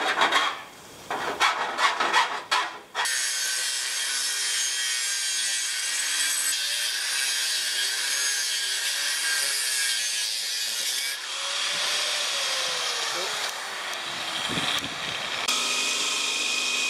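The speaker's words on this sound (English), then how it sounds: "from what you could see before from me obviously cutting and sanding things up" Stainless steel snorkel for a Colorado RC car being cut and sanded, a steady loud grinding rasp running for long stretches after a few sharp opening scrapes.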